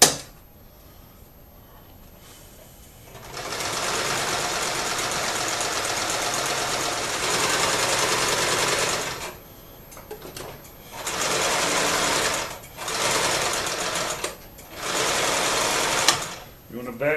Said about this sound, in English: we're going to sew the sides up